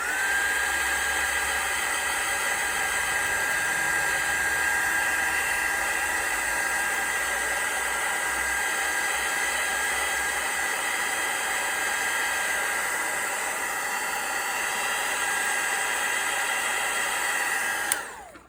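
A hair dryer runs steadily at close range, drying watered-down glue on a playing card, a constant loud airy whoosh with a high whine that holds for the whole stretch and cuts off abruptly at the end, with no talk.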